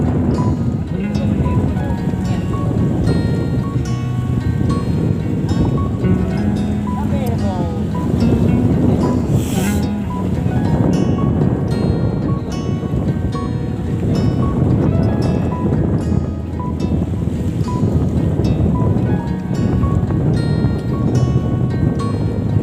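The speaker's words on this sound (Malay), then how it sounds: "angin barat ini sudah mulai bertiup." West wind blowing over the open sea around a fishing boat setting its nets, a steady, unbroken broadband rush of wind and water lasting throughout, with faint engine-like hum and voices mixed in.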